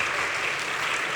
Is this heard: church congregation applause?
yes